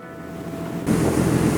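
Ocean waves rushing past a ship at sea, a steady broad wash of surf that swells in suddenly and stays loud and close, with wind noise mixed in and no talk.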